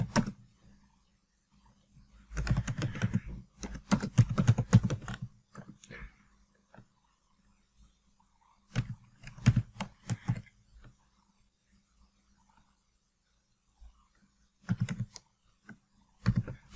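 A computer keyboard is typed on in short bursts of rapid, close clicking while Python code is written, with quiet pauses between the flurries and no voice heard.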